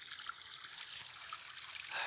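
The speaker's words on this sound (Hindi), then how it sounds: "कतरे कतरे पानी गिर रहा है कहीं से" Clear spring water trickles down in a clean, secluded natural spot, a steady close hiss of thin falling drops and splashes that continues without pause and swells slightly near the end.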